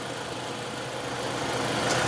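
A car engine idles steadily with the air conditioning switched on, a close, continuous mid-pitched hum with a slight vibration and no pauses.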